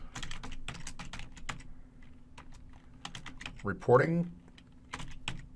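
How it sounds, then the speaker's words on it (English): Rapid keyboard clatter as a command is typed on a computer keyboard, bursts of key clicks interrupted by a short spoken word partway through. "type the module's load command"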